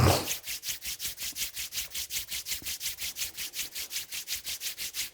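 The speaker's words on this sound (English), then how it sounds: "Rub your both palm." Palms rubbed briskly together during a yoga session, a steady, evenly spaced back-and-forth swishing that repeats roughly five times per second, close and clear with no talk.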